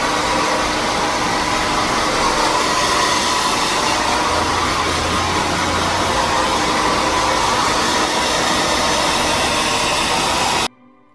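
A hair dryer blow-dries a young girl's hair with a steady, loud rushing whoosh that holds for about ten seconds, then abruptly shuts off.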